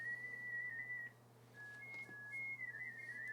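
Olivia digital mode amateur radio signal received on a transceiver, a thin warbling tone stepping between pitches in a steady stream over a constant low hum, with no talk.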